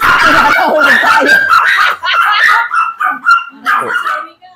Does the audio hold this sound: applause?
no